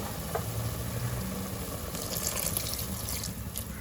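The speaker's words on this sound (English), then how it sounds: "Now at this point we are going to add in the tamarind pulp" Tamarind pulp poured into pork cooking in its own released juices for a Goan solantulem, giving a steady close trickling, liquid wash with a faint background hum and no talk.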